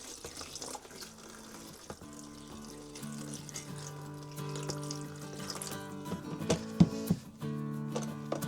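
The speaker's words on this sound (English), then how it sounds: "let's give these a rinse" Old tools that had soaked in vinegar are rinsed under running water, a steady, fairly quiet stream of flowing and splashing that continues throughout with no one speaking.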